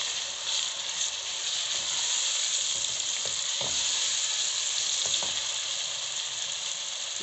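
A paste of ginger, green chili and garlic fries in a pan for chicken bhuna masala, giving a steady close sizzle with occasional stirring scrapes.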